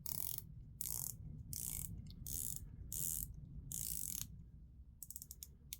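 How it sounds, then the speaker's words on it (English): Bezel of a Seestern S453 rose gold diver watch being rotated, giving bursts of crisp, rapid ratcheting clicks in several short runs, close and quiet, ending with scattered single clicks. "Now the bezel rotation is so nice on this watch."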